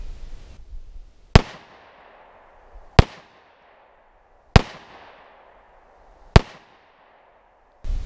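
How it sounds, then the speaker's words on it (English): A Smith & Wesson M&P Compact pistol fires Inceptor next-generation defense ammunition at a meat target from seven yards: five sharp, loud shots spaced about a second and a half apart, each with a short echoing decay. "I'll go back 7 yards with my Smith & Wesson M&P Compact, and I'll shoot it with our Inceptor next generation defense ammunition"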